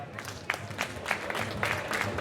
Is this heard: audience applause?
yes